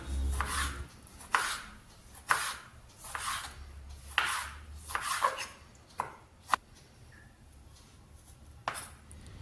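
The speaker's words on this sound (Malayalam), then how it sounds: "അതും എല്ലാം ഞാൻ കുറച്ച് വലിയ പീസായിട്ടാണ് കേട്ടോ കട്ട് ചെയ്യുന്നത്." A knife chopping vegetables into large pieces for a broccoli salad, sharp separate cuts striking a board in an uneven rhythm of about ten strokes, close and clear with no talking.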